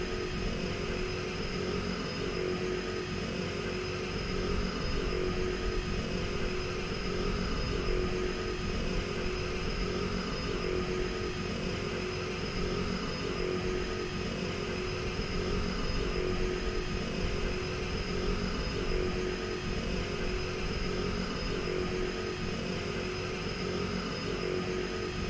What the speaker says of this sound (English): This airplane sounds fantastic.